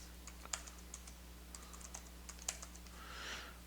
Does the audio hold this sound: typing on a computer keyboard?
yes